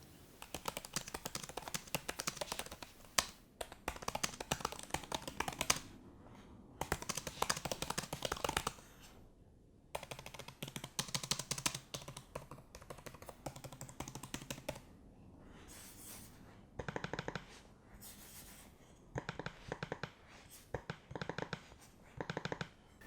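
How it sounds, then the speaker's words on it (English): Quiet, close typing on a Microsoft Surface Laptop 3 keyboard in quick bursts with brief pauses, mixed with soft trackpad clicks. "Here's a quick sound test of the keyboard and the trackpad."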